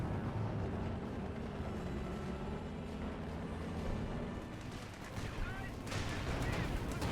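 Gunfire and artillery in a Company of Heroes 2 4v4 match: a constant, dense wall of battle noise with rumbling blasts and shots, and a sharp burst near the end.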